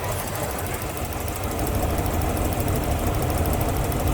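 A car engine runs steadily with an uneven, knocking misfire throughout a running compression test, a loud continuous rumble with rough pulsing and no talk.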